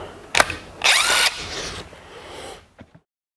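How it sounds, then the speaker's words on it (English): A power grinder works on metal plates at a metal shop surface plate, several short loud bursts of whining grinding with pauses between, close up, ending in a few small clicks, no talking. "the point here of the circle, and I'll start grinding those off"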